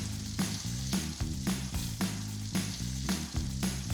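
A spice-rubbed rib eye steak sizzles in a cast iron skillet, giving a close, continuous fry hiss with regular soft pulses about twice a second.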